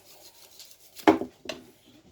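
A knife cutting the ends off a melon, two short crisp slicing scrapes about half a second apart, close and alone in a quiet room.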